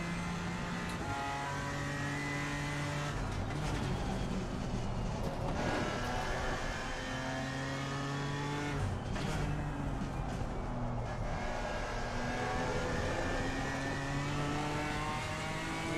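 A BMW M4 race car's engine in Assetto Corsa Competizione revs loud and continuous, rising through the gears with brief dips at shifts and a steady roar that climbs and falls, heard alone with no talk.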